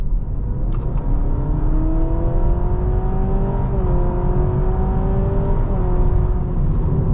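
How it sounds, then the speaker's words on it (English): A 2025 Honda Civic e:HEV hybrid accelerates at full throttle in sport mode, its engine drone climbing through artificial stepped CVT shifts, loud and continuous from inside the cabin. "it's got these artificial stepped gears for the CVT gearbox when you're in sport mode"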